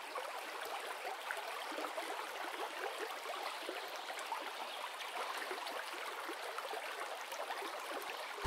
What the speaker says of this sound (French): vous laisser bercer par le doux son de l'eau qui serpente entre les pierres et suit son cours